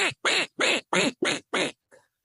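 A man imitates the quack of a domestic duck with his voice, giving six loud, evenly spaced nasal calls close to the listener, followed by a faint, short trailing note.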